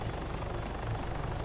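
Helicopter in the video game Arma 3, a steady low engine drone with a rapid rotor throb, continuous and close across the short stretch, no voices.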